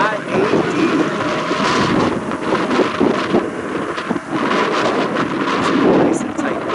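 Strong gusty wind buffets the microphone at an afternoon plane-spotting spot by Cleveland airport, a loud rumbling roar that swells and dips, with a voice talking faintly under it.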